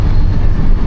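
Moroccan high-speed bullet train running, heard from on board as a loud, steady low rumble and rushing roar in a short burst, with no talking.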